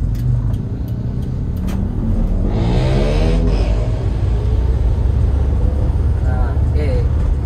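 A 2013 Toyota Hiace Commuter van drives along with a steady, loud engine rumble and road noise, the pitch shifting as the clutch is used and gears change, while someone talks over it throughout.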